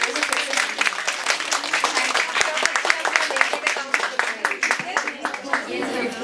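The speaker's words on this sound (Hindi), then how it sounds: "तो एक बार जोरदार तालियों से फिर से." An audience at a lecture on LinkedIn, professional branding and entrepreneurial networking claps for the speaker: a short run of loud, crisp, separate-sounding hand claps from a small crowd close by, with some voices mixed in.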